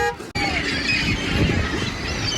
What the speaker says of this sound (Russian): Чайка села на машину, сработала сигнализация.